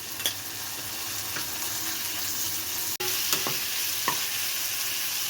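Soft sizzling and frying of onion with garlic and ginger paste in a pan, with occasional scraping stirs and a few light clinks, steady and fairly quiet throughout.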